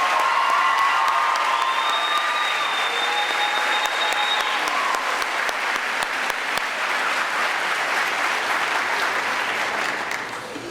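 Sustained applause from a crowd at a middle school graduation ceremony, honoring high honor students, with a few cheers and whoops rising above the steady clapping that continues evenly throughout.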